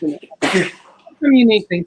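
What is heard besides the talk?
sneeze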